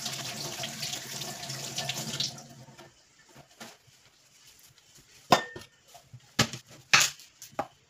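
Running tap water splashes steadily into a sink as mold-spotted onions are rinsed clean, then the flow stops and scattered handling clunks and splashes follow.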